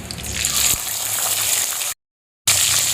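Chopped tomato hits hot oil with mustard seeds, asafoetida and curry leaves, breaking into a loud, steady sizzle with a thud as it lands, then a sudden brief silence before the frying resumes.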